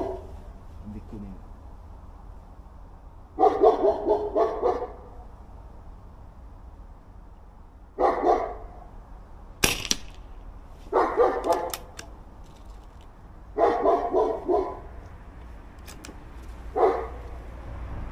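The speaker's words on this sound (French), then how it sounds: "Il y a le chien aussi" A dog barks in repeated bursts of several yaps at a time from an airgun shooting spot, with pauses between volleys and one sharp crack in the middle.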